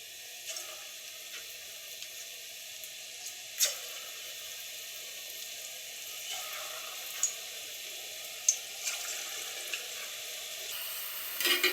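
Dahi vada batter fritters fry in medium-hot oil with a steady, soft, close sizzle, broken by occasional pops and light clinks.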